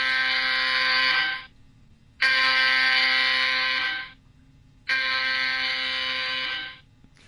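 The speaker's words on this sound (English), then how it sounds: "This is what the alarm's going to sound like." A stock-informer alarm played back on a computer, sounding as three loud, sustained buzzing alarm tones of about two seconds each with short gaps between them, and nothing else heard.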